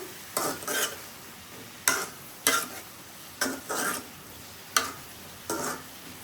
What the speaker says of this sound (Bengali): একদম নেড়ে চেড়ে মিক্স করে অল্প আছে ঢেকে রান্না করলে এই ভেজিটেবলটা সিদ্ধ হয়ে যাবে।